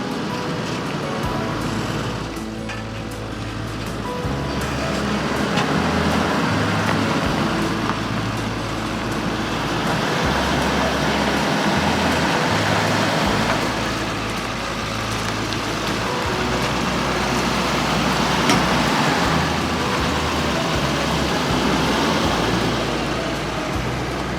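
An RV motorhome drives a mountain road in Virginia, giving a continuous rumble of engine and tyre noise with low drivetrain hum that swells and eases gently, no voices heard.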